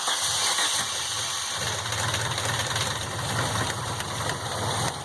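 An MK2 Golf GTI engine converted to motorcycle carburetors idles steadily nearby, a continuous low rumble with fast mechanical ticking and clattering layered on top.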